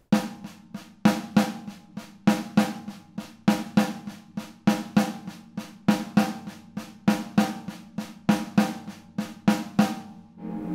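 Hands on a drum kit accenting a samba bass drum pattern, a steady fast stream of even strokes with regular louder accents, moderately close and without any voices.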